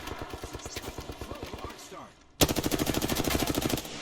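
Rapid automatic gunfire in Apex Legends rattles in sustained bursts, pauses briefly, then resumes louder and denser with rattling shots close by.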